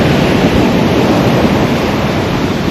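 Strong wind blows steadily at a lakeside campground, a loud, continuous broadband roar buffeting the microphone with a surf-like rush and no speech.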